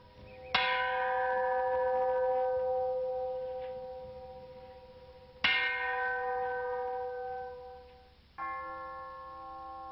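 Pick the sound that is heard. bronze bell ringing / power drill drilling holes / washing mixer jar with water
bronze bell ringing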